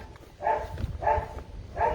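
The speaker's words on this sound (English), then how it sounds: "Dogs." A dog barks three times in an even rhythm, fairly close and moderately loud, with no talk.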